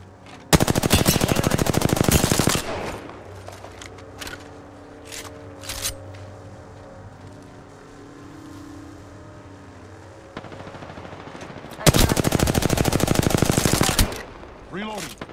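An L-Star machine gun in Apex Legends fires two long, loud bursts in a Kings Canyon trios match, and a quieter stretch of game sounds and a few clicks falls between them.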